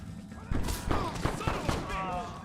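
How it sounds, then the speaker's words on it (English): An enemy fires at the player in Red Dead Redemption, a quick run of loud gunshots and thuds mixed with game effects and a voice talking over them. "Who's shooting me? This guy is shooting me."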